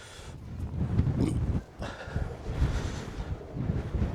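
Strong gusty wind buffets the microphone outdoors at Nagle campsite in Doolin, Ireland, rumbling low and surging in uneven bursts with a brief lull midway; no voices.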